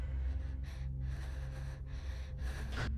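Sharp breaths puffed out inside a suit in a horror video game, a few quick gasping exhales over a low droning hum, close and fairly quiet.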